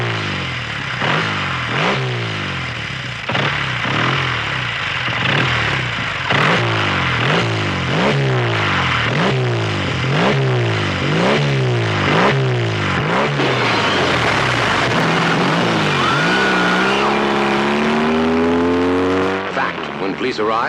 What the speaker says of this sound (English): a 20-year-old motorcycle, rusted and long since drained of gas and oil, had roared out into the chill Cicero night